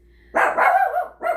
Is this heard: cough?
no